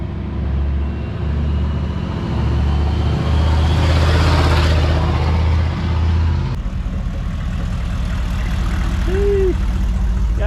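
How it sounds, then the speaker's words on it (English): Loud S300 turbo whistle and heavy diesel rumble from a Detroit 6.5 Chevy OBS pickup, the whine swelling mid-clip and then dropping back to a steady close-up idle. "Nice loud whistles on the OBS."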